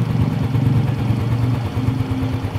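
A motorcycle engine, wired through an anti-theft wireless kill switch at the ignition coil, runs at idle with a close, steady, loud chugging pulse; no talking.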